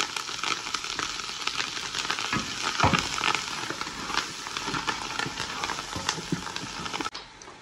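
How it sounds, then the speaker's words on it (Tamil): Onions sauté loudly in a pan for beef biryani, a dense crackling sizzle with scraping stirs throughout, close and continuous before a sudden drop near the end. "பாருங்க, நல்லா வெங்காயம் வதங்கிச்சு"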